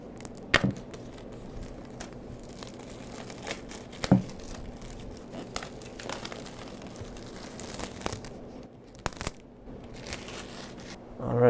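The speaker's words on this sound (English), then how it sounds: "we're going to go ahead and peel the plastic that is protecting the box" Plastic protective wrap peeled off an Apple Watch Series 6 box, a steady close crinkling and tearing with a few sharper snaps spread across the stretch, no voices.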